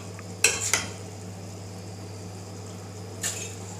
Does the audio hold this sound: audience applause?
no